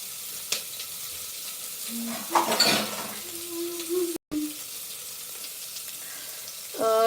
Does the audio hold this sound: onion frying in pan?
yes